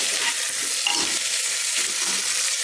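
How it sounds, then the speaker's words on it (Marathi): Tomatoes stirred into golden fried onion masala in a pan, a loud, continuous close sizzle with soft stirring scrapes, no voices. "टोमॅटो घालूया। आणि एकदा पुन्हा एकत्र करून घेऊया।"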